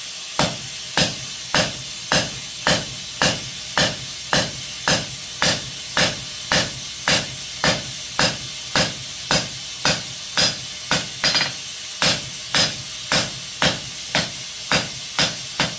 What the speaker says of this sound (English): We'll get it up nice and hot, and we'll go to forging on it.